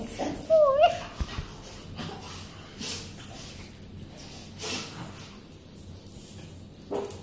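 Dogs whimper and yip in a home, with a thin high whine near the start and brief cries later over a soft noisy background.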